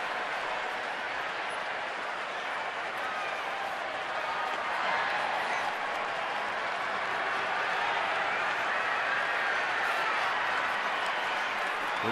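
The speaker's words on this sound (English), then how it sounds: "Crowd having fun" A baseball stadium crowd of about 28,766 fills the air with a constant dense roar of cheering and clapping, unbroken from start to finish.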